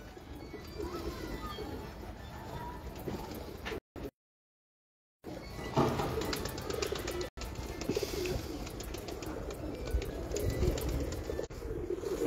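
Pigeons cooing on a rooftop loft, a steady murmur of soft bird calls across the whole stretch with faint background voices and a brief gap of silence near the start.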